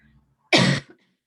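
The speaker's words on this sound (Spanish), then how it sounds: "perdón la tos" A single sharp cough from a Spanish-speaking lecturer, close and loud, bursting out briefly after a faint breath and trailing off in quiet.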